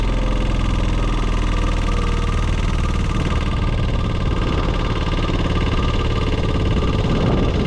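A Cela DT80 tracked spider lift's engine runs at a steady, loud, close drone while the basket is lowered, a continuous mechanical hum with no talking.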